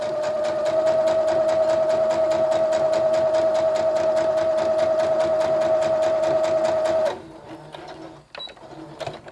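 A sewing machine runs steadily for about seven seconds, stitching doll backpack fabric with a fast, even mechanical whir, then stops, leaving a few faint handling clicks and quiet room noise.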